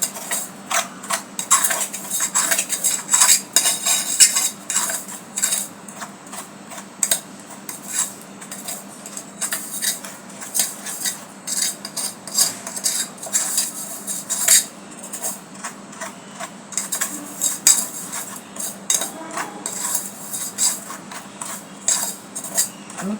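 A spoon stirs a milk and sugar mixture for milk tea in a cup, with steady, close clinking and scraping against the sides that repeats briskly and continuously throughout, with no talking.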